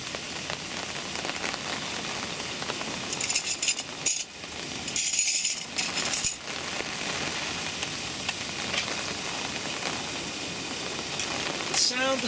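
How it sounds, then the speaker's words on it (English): Bacon sizzles in a pan at a lakeside camp at Orchid Lake while carp fishing. There is a steady crackling spatter close by, with brief background voices and a few clinks. "The sound of sizzling bacon, you just can't beat it."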